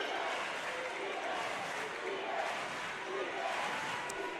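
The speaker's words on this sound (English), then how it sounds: "The crowd is into it on both sides." A high school basketball crowd at a regional final roars in a dense, steady wash of cheering that fills the gym without letup, loud and continuous with no clear individual voices.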